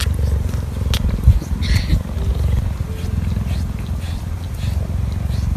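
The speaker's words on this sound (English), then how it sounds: "Did you know that cheetahs could purr?" A low, continuous cheetah purr rumbles steadily throughout, close and fairly loud, with a few faint rustles and higher chirps over it.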